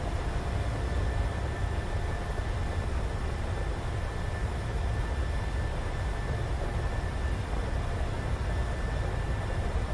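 Boeing 737 jet engines at takeoff thrust on the departure roll: a steady, loud, broadband roar with a faint high whine, unchanging for ten seconds, with no voices.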